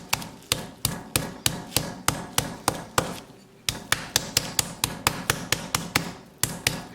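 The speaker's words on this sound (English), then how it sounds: "Now we're going to get the meat tenderizer and we're going to hammer it." A meat tenderizer pounds a chicken breast flat in a home kitchen, about twenty sharp, steady thuds in a quick, even rhythm, close and clear, with one short pause midway.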